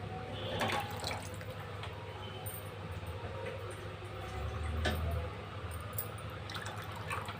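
Water poured into a pot of tomato rasam, a steady watery gush with a brief louder swell in the middle, heard alone over low background hum.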